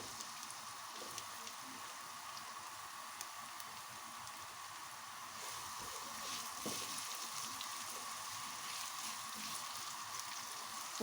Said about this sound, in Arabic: كده الزيت بدأ يسخن، هنزل بالبصل